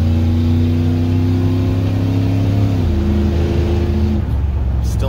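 Shop truck engine while cruising on the road, a steady mid-pitched drone with a clear gear-like pitch drop partway through, continuing at moderate volume until the tone fades near the end.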